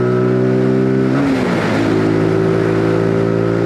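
A Zontes G125 125cc motorcycle accelerating onto a highway, its engine droning loud and close with a steady whine that dips at a gear change and then climbs again under wind noise.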